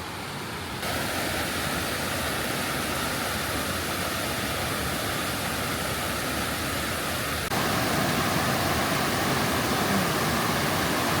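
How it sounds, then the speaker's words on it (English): Steady, dense rush of a waterfall near Seydisfjordur, Iceland, loud and continuous, swelling slightly toward the end, with no voices. "Can you hear the water? I think we found the falls."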